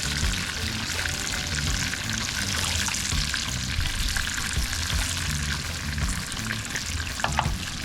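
A pot of rice on the stove bubbles and sizzles steadily and loudly, a dense continuous frying hiss with faint liquid sounds and no voices.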